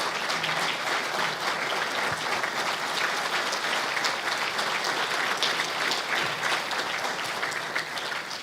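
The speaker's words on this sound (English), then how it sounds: "just give a round of applause for Jose and Adriana for their Paul Harris Fellowship" An audience at a Rotary Club of Tucson meeting applauds steadily for a couple receiving a Paul Harris Fellowship, a dense, even roomful of clapping sustained throughout.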